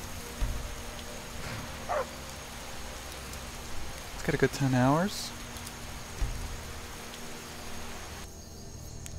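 Rain pours steadily over an outdoor camp in Skyrim, a soft continuous patter while someone speaks briefly over it.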